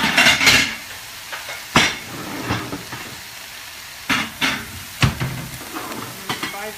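Plates taken out and handled in a kitchen while chicken sizzles in a pan for Thai curry, giving a few sharp ceramic clinks and knocks spaced over a low frying hiss, close and alone.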